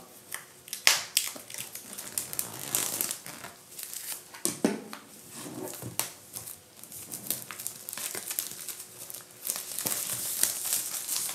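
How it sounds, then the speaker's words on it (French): Crinkly protective plastic film is peeled and torn off an Apple TV 2021 box, giving close, continuous crackling and crumpling with sharp rustling bursts and no talking. "on va tout simplement commencer par déballer voilà, le petit blister qui est autour de protection"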